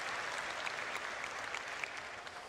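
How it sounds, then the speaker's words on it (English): An audience at the CitizenCon convention applauds with steady, dense clapping that holds evenly throughout, heard from within the hall. "All right, you can clap."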